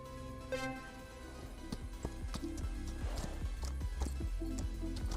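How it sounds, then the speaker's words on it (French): A horse galloping in the Equinox Homecoming video game, rhythmic hoofbeat clip-clops at a quick pace over background game music. "Galop, sprint."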